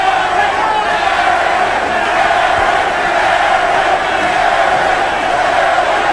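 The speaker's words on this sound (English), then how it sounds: "Crowd animated, enjoying this one" Boxing crowd cheers at an arena fight between Erik Morales and Kevin Kelley, a dense, loud, continuous roar of voices with shouts rising and falling throughout.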